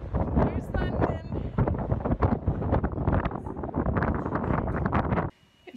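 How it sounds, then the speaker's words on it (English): Strong wind gusts roar and buffet the microphone at the top of St Paul's Cathedral in London, loud and continuous under a person talking, then cutting off abruptly near the end. "It's very windy, but ta-da! Here's London."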